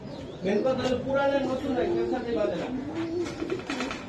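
Racing pigeons coo up close in a continuous warbling, rising-and-falling series of soft throaty calls that runs for several seconds.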